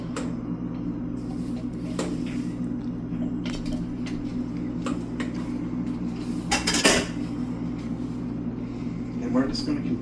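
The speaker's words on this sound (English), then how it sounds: "we're just going to continuously stir this here" Mushroom gravy, made with food-processed mushrooms, stirred continuously in a pot with a utensil scraping and clinking against the metal under a steady stove hum, with occasional louder knocks and a voice talking throughout.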